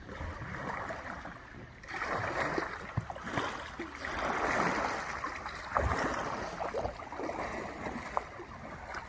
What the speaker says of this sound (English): So, for example, a backstroke turns me very quickly.